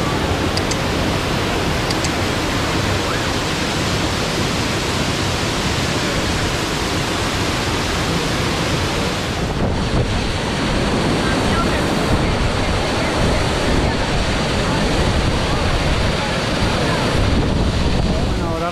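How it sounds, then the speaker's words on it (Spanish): A waterfall in San Carlos, Antioquia, Colombia roars with a loud, continuous broadband rush of falling water, mixed with some wind buffeting across nearly twenty seconds. "miren acá esta otra hermosa cascada que se encuentra acá"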